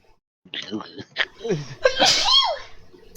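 A sharp sneeze bursts out amid people talking and laughing, followed by more chatter and a short reply.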